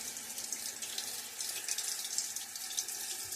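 Water runs steadily from a bathroom tap, rinsing away shaving lather and suds after a wet shave with Proraso Red soap; a continuous hiss of flowing, splashing water close by, with no voices.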